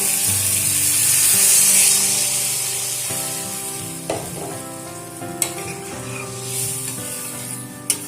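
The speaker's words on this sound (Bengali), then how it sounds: "এবার এর মধ্যে দিয়ে দেবো পরিমাণ মতো জল" Water poured into a hot pan of new potatoes and peas cooking for aloo dum, with a loud hiss that fades into steady sizzling and a few sharp clinks and spatters.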